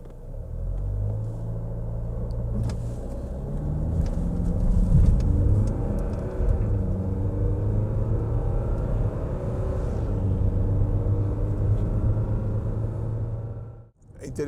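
Cabin of a Jeep Commander Limited TD380 4x4 while driving, with a steady low diesel engine rumble and road noise that swell slightly as it accelerates, close and continuous, fading briefly near the end.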